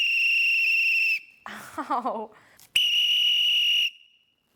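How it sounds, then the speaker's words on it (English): A whistle held in the mouth and blown gives two long, loud, steady shrill blasts, with a short cry of pain and some voiced sound in the gap between them. "Having a whistle in your mouth."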